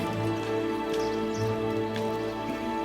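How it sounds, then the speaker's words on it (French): Light rain pattering steadily on a pilgrim's trail along the Via de la Plata in early morning, a soft continuous hiss with faint drops beneath a low steady hum, no talking. "Et il pleut un petit peu."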